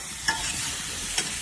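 Meat frying in a pan in its own rendered fat, with moisture evaporating off it: a steady broadband sizzle that runs throughout, with two brief louder crackles or stirring scrapes and no voices.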